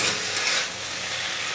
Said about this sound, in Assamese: এয়া জিৰা গুড়ি ভালদৰে এইখিনি লৰাই দিছোঁ।